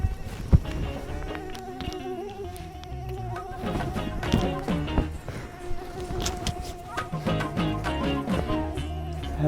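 Mosquitoes whine and buzz close by at night, a continuous insect drone that wavers in pitch against a busy background with scattered other noises.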